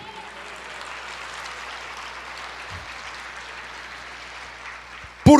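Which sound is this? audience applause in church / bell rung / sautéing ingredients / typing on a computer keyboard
audience applause in church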